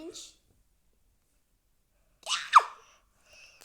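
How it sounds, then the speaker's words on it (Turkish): A short shout or scream rings out after a stretch of silence, one loud rising-and-falling burst with a sharp peak, framed by a brief faint sound at the start and a soft tone at the end. "o bağırış neydi lan?"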